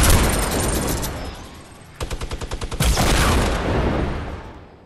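Gunfire in Fortnite Battle Royale: a loud shot followed by a rapid burst of evenly spaced rounds midway, then another heavy report, with lingering echo and no talking.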